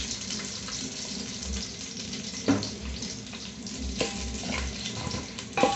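Meat frying in a pot after oil is added for pilau, a steady close sizzle and crackle with a few louder spits and stirring knocks, no voices.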